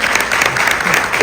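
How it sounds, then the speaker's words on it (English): Audience at a chamber of commerce board installation event bursts into dense, loud applause, a continuous patter of many hands clapping with no speech. "please, give them all a big hand of applause."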